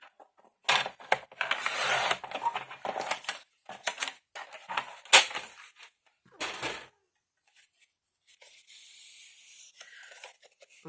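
Paper being cut with scissors while making an Easter bunny basket, a series of close, crisp snipping and rustling bursts separated by short pauses, fairly quiet with no talk.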